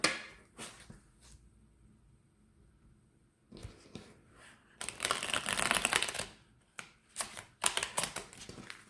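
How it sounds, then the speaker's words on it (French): Tarot cards being shuffled by hand, giving a close run of papery riffles and rustles that start sparse and faint, then grow into louder dense bursts in the second half, with no talk. "Ah, elles se mélangent très très mal ces cartes."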